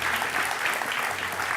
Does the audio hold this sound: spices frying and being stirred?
no